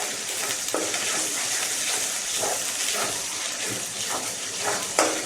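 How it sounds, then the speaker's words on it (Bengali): Ginger paste and spices frying and being stirred with chicken in a pan for a whole roast chicken dish, a steady loud sizzle throughout with repeated scraping strokes of the spoon, no talking. "মশলাটা কষানো হচ্ছে।"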